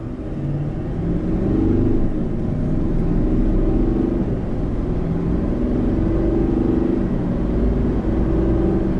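A Chevy Silverado 2500 HD with a Duramax diesel, in tow haul mode, accelerates from a standstill to highway speed, with a steady heavy engine rumble heard from inside the cab and shifts subtly changing the drone.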